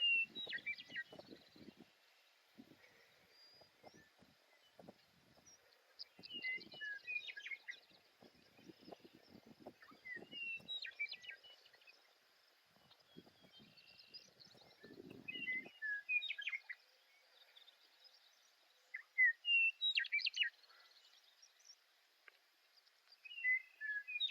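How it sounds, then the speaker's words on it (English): Faint western meadowlark song drifts in from a distance in Montana, short warbled phrases repeating over quiet outdoor air with occasional low rustles. "You can hear the western meadowlark."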